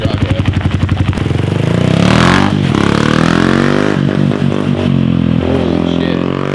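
A 2021 TC 125 pit bike with a loud, raspy exhaust pops at idle, then revs up and rides off, engine pitch rising and falling nearby.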